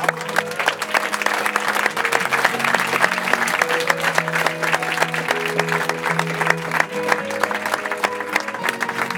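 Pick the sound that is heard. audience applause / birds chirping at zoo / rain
audience applause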